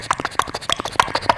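A mimicry artist's voice imitates a horse cart, clopping hooves in an even rhythm of sharp clicks, close and alone without speech.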